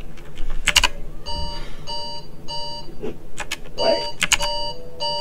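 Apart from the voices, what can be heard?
phone alarm beeping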